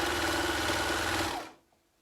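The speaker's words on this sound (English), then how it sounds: "So just doing an overlocked stitch to join the back to the side" An overlocker serger stitches a seam joining the back and side panels of men's boxers, its rapid mechanical whir loud and steady for about a second and a half before cutting off to silence.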